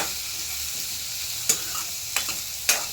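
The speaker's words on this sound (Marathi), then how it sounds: "आता कांदा टाकून परतून घ्यायचं थोडं तेल टाकून" Sliced onion sautéing in a little hot oil for shev bhaji: a steady close sizzle with three sharp scrapes of a spatula stirring the pan.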